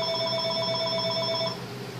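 A telephone rings indoors in a steady, moderately quiet electronic trill that stops about three quarters of the way through, leaving a low room hum.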